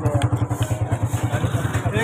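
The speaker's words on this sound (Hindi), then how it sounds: "हम लोग जा रहे हैं अब वापस से बाइक पे" A motorbike ride with a steady, rhythmic engine pulse throbbing close by, mixed with rushing wind noise throughout.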